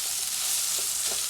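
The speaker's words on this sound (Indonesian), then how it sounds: "Oncomna maksudna digorengkeun heula sampai dia bumbu-bumbunya itu garing." Oncom and spice paste frying in a pan, a dense, steady close sizzle with soft stirring scrapes and no talking.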